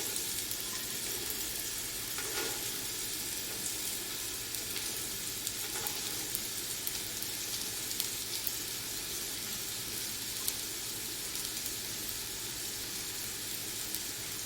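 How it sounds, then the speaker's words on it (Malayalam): Carrots and beans stir-fried in oil in a pan for chicken fried rice give a constant close sizzle, broken by occasional stirring scrapes, with no talking. "ക്യാരറ്റും ബീൻസും കൂടെ ഇട്ട് കൊടുക്കാം."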